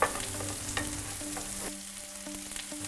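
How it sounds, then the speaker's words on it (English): Carrots and other vegetables are stirred around a pan for shepherd's pie, a steady close sizzle broken by scraping and knocking strokes of the spoon, with no voices. "Stir all together."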